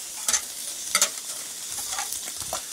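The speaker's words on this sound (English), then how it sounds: "To sear the burgers, this is a grill grate flipped upside down." Burgers searing on a grill grate turned upside down, giving a steady bright sizzle with a couple of sharp clanks near the start and lighter scraping later.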